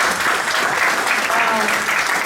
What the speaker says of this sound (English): let's give him a hand clap, y'all.